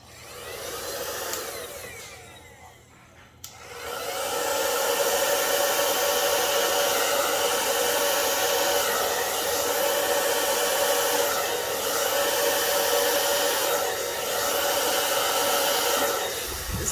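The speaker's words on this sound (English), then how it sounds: "I'm going to take the hairdryer on low and cool." Hair dryer on a low, cool setting blowing steadily over a fluid paint pour, a loud continuous whoosh that rises after a short dip and then holds nearly constant.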